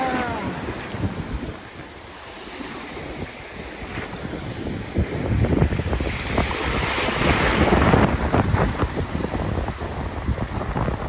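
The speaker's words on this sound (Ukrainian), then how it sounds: "Ах, яка краса море!" Sea waves surge and wash along a shore, with a steady, loud roar that swells toward the end, mixed with gusting wind buffeting the microphone; no one speaks.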